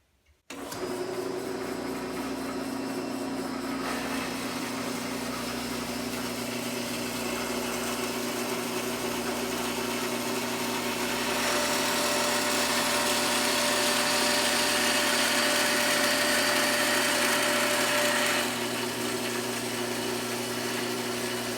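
A bandsaw runs continuously while cutting a wooden piece for a roller stand, a steady loud motor hum with a whirring blade that rises in intensity partway through the cut, with no talking.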